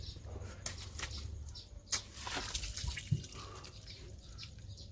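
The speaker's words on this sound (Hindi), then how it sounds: "तो अभी थोड़ा पानी डाल के देखते हैं इसी पे" Water poured over a car's AC condenser during cleaning, a quiet splashing and dripping trickle with a few sharper splashes, heard up close at low level.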